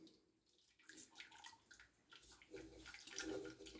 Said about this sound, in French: je vide l'eau